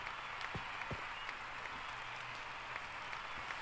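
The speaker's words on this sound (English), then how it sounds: "They were clapping." Faint, steady clapping from a small group somewhere in the background, a soft continuous patter with a few sharper claps standing out now and then.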